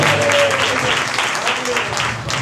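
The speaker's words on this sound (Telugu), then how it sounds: "అందరూ కూడా చప్పట్లు కొడతారు యేసయ్య కొరకు" A congregation clapping at a church revival faith meeting, sustained loud applause from many hands that fades slightly toward the end, mixed with a voice speaking over it.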